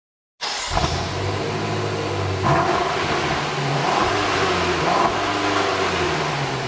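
2014 BMW M5 engine firing up abruptly and settling into a steady, strong idle with a couple of throttle blips, close and loud, with no talking.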